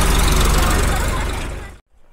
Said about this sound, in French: Beau tracteur.